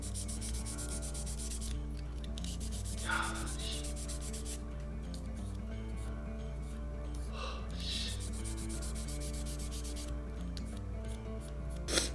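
Quiet, steady rubbing of fine 1000-grit sandpaper back and forth over a plastic model kit surface, soft rhythmic strokes close up with a faint hum underneath.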